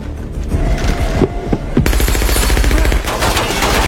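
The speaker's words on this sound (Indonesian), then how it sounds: "Di sana dia ditembaki secara membabi buta" Machine gun fire in an action film: loud, dense bursts of rapid shots that become a continuous rattling stream over a heavy rumble, with no speech.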